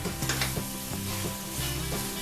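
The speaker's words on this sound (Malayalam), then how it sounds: "മസാല എല്ലാം കൂടെ നന്നായിട്ട് ഒന്ന് ഇളക്കി യോജിപ്പിച്ചെടുക്കുക." Masala for Thalassery egg biryani sizzles in a hot pan while a spoon scrapes and stirs it in regular strokes, close up and fairly quiet, with no talking.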